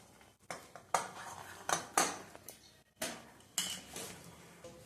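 Chopped cabbage is tipped into a cooking pot for Gujarati ghuto, with a series of sharp metal clanks and scrapes from a spoon against the pot, spaced about a second apart, in a quiet room.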